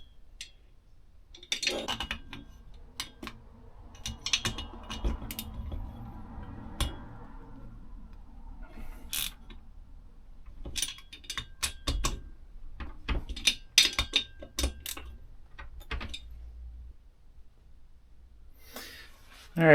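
Main bolts on a McCulloch Pro Mac 10-10 chainsaw being tightened during a rebuild, irregular close metallic clicks, ratchet ticks and clinks, with soft breathing and handling noise, no talking.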